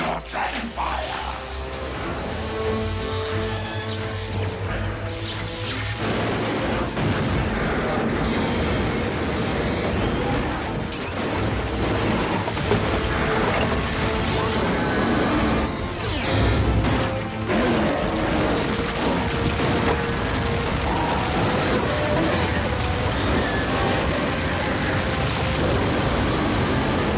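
Predacon dragon fire attack in Transformers Prime Beast Hunters animation: loud, dense roaring blasts and crashing explosions sustained throughout, with booming low rumbles and metallic mechanical clanks over a dramatic score.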